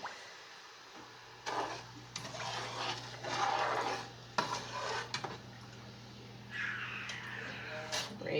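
Spoon stirring grape jelly in a pot, with scraping and clinking of utensil against metal in irregular bursts, a steady hum underneath and a voice speaking intermittently.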